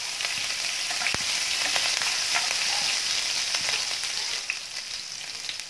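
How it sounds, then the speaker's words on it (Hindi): Cumin seeds with a pinch of asafoetida and two green chilies frying in hot oil for a dry potato and capsicum sabzi, a continuous close crackling sizzle with a few sharp pops, easing slightly toward the end. "जीरे के लाल होते ही मैं इसमें डालूंगी हरी मिर्च।"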